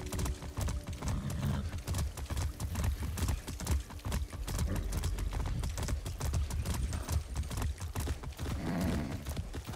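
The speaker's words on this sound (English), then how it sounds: "Can I automate the horse riding?" Horse hooves clip-clop in a steady, rhythmic gait while riding in the video game Far Cry 6, loud and continuous throughout without pause.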